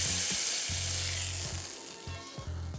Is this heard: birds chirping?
no